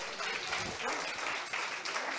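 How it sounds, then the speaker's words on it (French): Dense crowd applause fills the hall at a lively evening gala for farmers at an agricultural show, steady and loud throughout with a few voices mixed in. "On l'applaudit bien fort."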